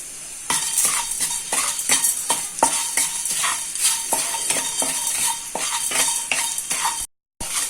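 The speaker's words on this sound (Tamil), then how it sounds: "மிளகு, பட்டை 1, பிரிஞ்சி இலை 1 இலை, கல்பாசி 3 கிராம்பு, எல்லாத்தையும் நல்லா வறுத்து எடுத்துக்கலாம்." Pepper, cinnamon, bay leaf, kalpasi and cloves dry roasting in a pan for chicken biryani spice powder, with a continuous rattling sizzle and rapid repeated scrapes and taps of a stirring spoon, briefly cutting out near the end.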